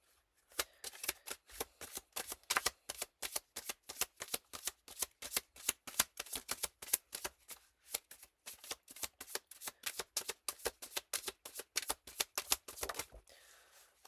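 A deck of tarot cards is shuffled continuously and rapidly, a steady run of crisp riffling flicks lasting over ten seconds before stopping abruptly, close and with no talking.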